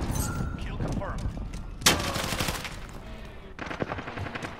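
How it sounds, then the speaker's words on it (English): Video game gunfire crackles in rapid automatic bursts with one sharp, loud report, mixed under a player's voice talking excitedly. "Bro, why the fuck are you shooting?"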